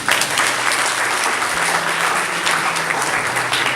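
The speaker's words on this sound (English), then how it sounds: "Let's clap for them." A church congregation claps together during a worship service, a loud, dense and sustained round of applause lasting several seconds with a faint low hum beneath it and no speech.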